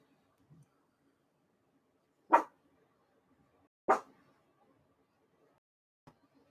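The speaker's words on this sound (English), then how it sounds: "Hey, what you barking about?" A dog barks twice, loud and close, with about a second and a half between the barks. A faint click follows near the end, with quiet room sound between the barks.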